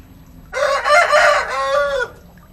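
A rooster at a market crows once, loud and close, a drawn-out cock-a-doodle-doo lasting about a second and a half against quiet surroundings.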